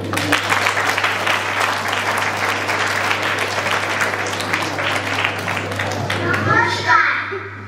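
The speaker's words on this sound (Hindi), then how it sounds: "तो तालियों की गड़गड़ाहट से इनका स्वागत करेंगे।" Loud, thunderous clapping from a crowd at a hostel farewell program welcoming guests, continuous and dense, with children's voices and chatter mixed in and a steady low hum underneath.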